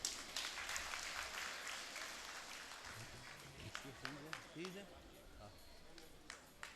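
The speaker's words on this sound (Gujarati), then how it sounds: "તાળીઓ વગાડો ભાઈઓ." An audience claps for a student receiving a trophy at a community education award ceremony, faint and distant steady applause with voices talking over it.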